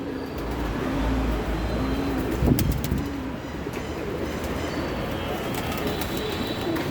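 Pigeons coo softly in the background over a steady noisy hum, entering through a tin roof, with a brief clatter midway; low, rounded calls repeat intermittently.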